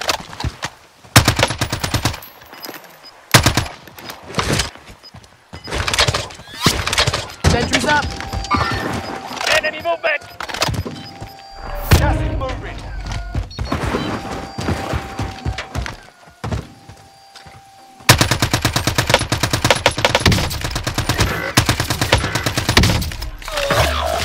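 Gunfire in the video game Warzone, with bursts of automatic weapon fire and sharp single shots coming in irregular clusters, loud and close, with a few short gaps between volleys.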